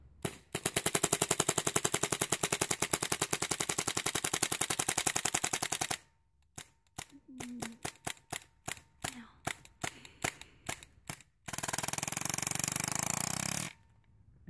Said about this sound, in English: Run the selector over to full auto and go.